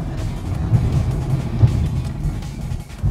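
A Holden Commodore lapping a race track, its engine a steady low drone heard from inside the cabin, with faint road and wind rush throughout and no voices.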